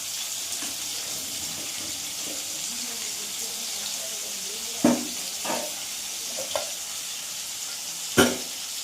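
Tempering hisses as it goes into drumstick sambar: a soft, steady sizzle under a few sharp metallic clinks and pops from stirring, heard up close at moderate volume.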